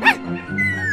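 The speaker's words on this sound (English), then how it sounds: "Got some fine puppies here." Puppies in the Minecraft Story Mode video game giving a short high-pitched yip followed by soft whimpering and whining tones, all within about a second.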